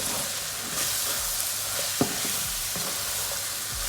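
Chicken gizzards stir-fried in a pan, a steady close sizzle broken by scraping knocks of a spoon moving them around, with several stirring strokes over a few seconds.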